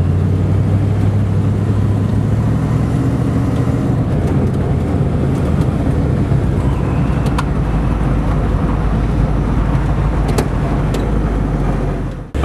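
A 1950 Nash lead sled's engine idles a little fast, a steady loud low rumble with some wind buffeting on the microphone and a few faint clicks, running continuously until a sudden cutoff at the end.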